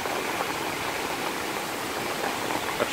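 A steady wash of rushing water from the Chi Pham waterfall in the rain fills the air, a constant broadband roar, even and unbroken throughout.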